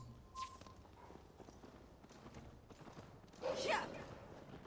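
Horse hooves clip-clopping in Assassin's Creed Valhalla, a light steady patter under game ambience, with a louder burst of noise near the end.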